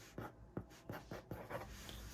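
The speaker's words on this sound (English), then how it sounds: "Guess I should write something about this now." Pen writing on paper: faint rhythmic scratching strokes, about six short scrapes in a steady pattern, close and quiet with no talk.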